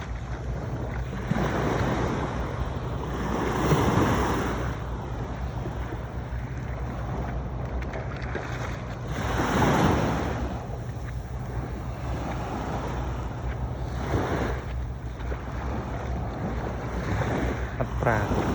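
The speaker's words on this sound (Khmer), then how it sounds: "ដើរលំហែនៅមាត់សមុទ្រមើលទេសភាពដ៏ស្រស់ត្រកាល" Sea waves washing onto the shore at Koh Kong, Cambodia, a steady broadband rush with louder surges every few seconds, mixed with wind buffeting the microphone.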